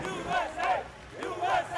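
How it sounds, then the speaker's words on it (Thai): Crowd at a Street Fighter IV EVO 2009 finals match chanting for the USA, rhythmic repeated group chant in two swells, with a commentator talking over it. "เอาละครับเสียงเชียร์ u s เอยูเอเริ่มมาแล้วครับ"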